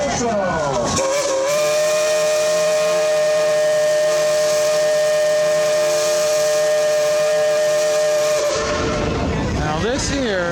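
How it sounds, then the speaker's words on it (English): A steam train whistle at Dollywood sounds a long, loud, steady blast lasting several seconds, rising in with a hissy onset and trailing off into hiss, close and dominating everything else. "Whistle."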